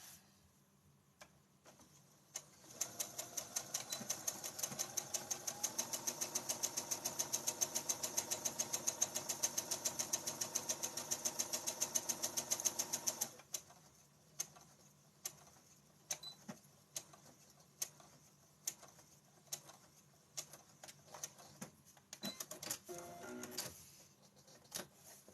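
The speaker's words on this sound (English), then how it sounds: "I always try to go a little slower when I'm back stitching" A sewing machine hums and ticks in a steady rapid rhythm for about ten seconds during back stitching, then slows into separate spaced ticks and stitch clicks, close and fairly quiet.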